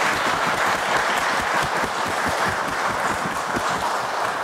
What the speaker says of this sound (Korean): 우리 일단 한번 박수 한번 해볼까요?